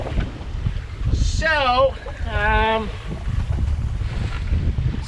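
Brisk wind at sea aboard a sailboat off the Maine coast, a steady low rushing roar buffeting the microphone, with a person's voice rising briefly over it in the middle.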